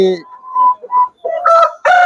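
Tiger chickens on a poultry farm give short clucks nearby, then a rooster lets out a loud crow, all within a couple of seconds.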